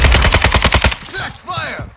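A rapid burst of about ten loud, close shots from a Fennec submachine gun in the Modern Warfare 2022 video game, then fading echoes and shouted voices as the firing stops.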